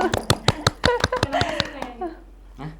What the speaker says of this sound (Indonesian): sekali lagi tepuk tangan buat Afizar